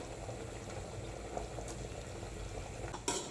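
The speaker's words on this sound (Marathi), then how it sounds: "मस्त उकळी आलेली आहे आपण कोथिंबीर टाकूया" A pot of fish curry with coriander leaves added bubbles at a rolling boil, a close, steady simmering fizz with a small clink near the end and no voices.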